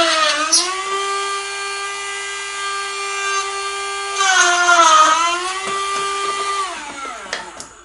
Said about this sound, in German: Fertig ist die Geschichte mit Bohren.